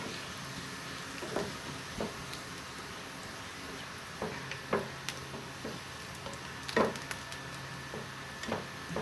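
Low steady sizzle of garlic, cumin and red chili frying in oil, with scattered soft pops and clinks from a utensil stirring in the pan.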